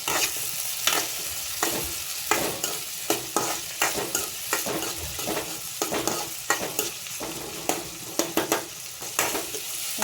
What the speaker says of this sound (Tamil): 2 தக்காளியை போட்டு இது வதங்கணும். நல்லா தக்காளியே தெரியாத அளவுக்கு வதங்கணும்.